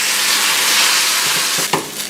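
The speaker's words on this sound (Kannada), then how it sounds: "ಟೊಮೆಟೊ ಹಾಕಿ ಸ್ವಲ್ಪ ಹುರಿರಿ." Onion and tomato fry in a pan with a steady, loud sizzle and hiss, close by, broken near the end by a few soft stirring knocks and no voices.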